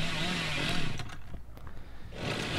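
Chainsaw revving in the video game Dead by Daylight, a loud, continuous motor whine that rises and falls in pitch with a brief dip before roaring back up.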